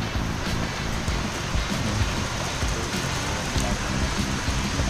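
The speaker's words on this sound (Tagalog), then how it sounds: "Lakas ng ulan." Heavy rain pours steadily onto a canopy overhead, a dense continuous hiss and patter with low rumbling beneath, with no let-up through the whole stretch.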